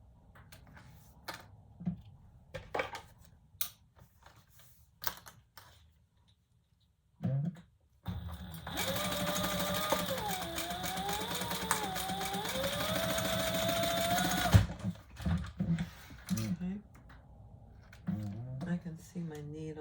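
A sewing machine stitches the side seams of a leather retro-style sling bag, running steadily for about seven seconds with a slightly wavering motor pitch, with talk and small handling noises before and after.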